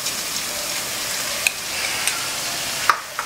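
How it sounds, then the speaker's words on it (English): Garlic frying in oil over a high flame, stirred, gives a steady broadband sizzle with a few sharp clicks of the spoon against the pan, close and continuous. "And then give it a quick stir. Okay, so here the garlic has not turned brown, but it has turned a little bit golden."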